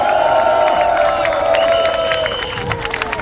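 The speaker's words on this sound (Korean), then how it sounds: "건강 기원의 박수 한 번 더 힘찬 박수" A crowd at a rally of Marine Corps veterans outside the National Assembly station claps and cheers, a broad wash of applause beneath a loud sustained tone from the sound system that fades toward the end.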